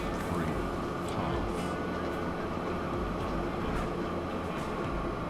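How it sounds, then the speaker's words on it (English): A steam train arrives at a station in the railway simulation game Train Fever, giving a steady, continuous rumble of rolling wheels and carriages with faint clanks throughout. "there's an incoming steam train"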